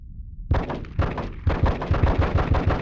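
Rapid rifle fire in Die Hard: Vendetta, a dense string of loud close shots in quick bursts after a brief quiet start.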